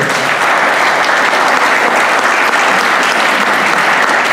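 Loud, dense applause from a crowd for a choir performance, continuous and close, sustained without a break and with no voices over it.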